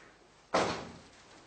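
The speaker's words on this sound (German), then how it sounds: "Mach die Tür zu." A single sharp door slam lands mid-moment in a quiet indoor room, a loud thud followed by a brief fading decay.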